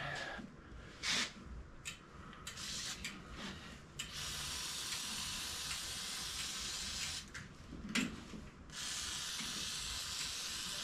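Long, steady hissing spray from an aerosol can coating a bicycle part, running in sustained bursts with brief pauses, close by and fairly loud.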